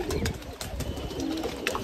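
Pigeons cooing and calling outdoors over a steady background hum, with a faint flutter of activity and a soft burst of sound near the end.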